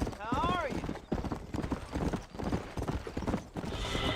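Horse hooves clip-clop steadily in Red Dead Redemption while a horse lets out a brief whinny early on, with someone talking throughout over the galloping and game sounds.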